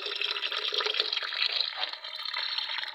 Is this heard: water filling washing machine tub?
yes